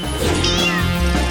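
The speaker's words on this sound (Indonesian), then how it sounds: "Ada kucing di sini." A cat gives a single close, clear meow rising and falling in pitch, with a faint knock at the end.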